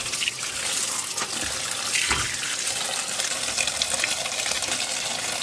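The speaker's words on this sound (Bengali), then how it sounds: "কমসে কম 4টা ধোয়া দিতে হবে শাক" Water runs steadily into a sink as leafy greens are rinsed, a close continuous splashing rush with occasional small knocks and no talk.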